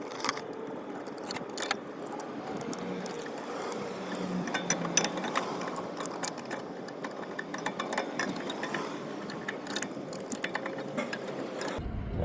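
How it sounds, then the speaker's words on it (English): C-clamp being wound in to compress the front brake caliper piston of a Ford Focus with the brake pad still in place: continuous close metallic clicking, ratcheting and jangling of tools, irregular and steady for several seconds, no talk. "Right now we are going to compress the piston with the brake pad still on the piston"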